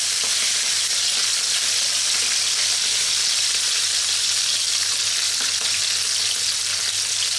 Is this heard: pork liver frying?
yes